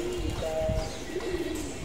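Pigeons and their chicks at the nest give low, soft coos and brief murmurs near the microphone, with a short higher tonal note over a busy, steady background.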